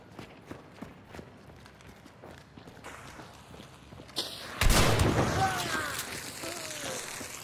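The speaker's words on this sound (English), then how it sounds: "That nade, I had no idea where it was." A grenade blast in the game Hunt: Showdown erupts as a loud, broadband burst partway through, following quieter footstep-like thumps, then a rumbling tail with faint whistling tones.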